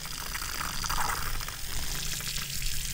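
Water gushes steadily from a garden hose connected to an electric on-demand water heater, a loud continuous splashing rush lasting throughout with no talking.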